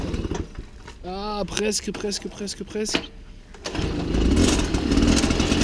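A 1993 MBK 51 Salsa moped being started outdoors after the fuel is opened: a short voiced exclamation first, then after a brief lull the small two-stroke engine catches and runs steadily, fairly loud and close.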